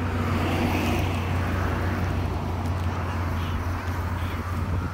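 Graduation parade vehicles roll past on a road in a continuous loud engine and tyre rumble, a dense low drone that stays near and steady without a break.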